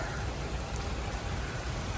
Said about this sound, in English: it's raining really bad right now